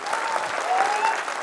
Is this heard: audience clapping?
yes